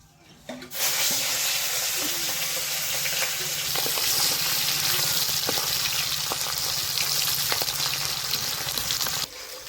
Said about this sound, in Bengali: এই সামান্য একটু মাছের তেল ভাজা করে নিব।